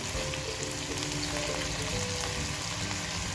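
Carrots, capsicum and cabbage sizzle with onions in a hot pan, a loud, steady, even frying hiss with faint tonal hum beneath and no talk.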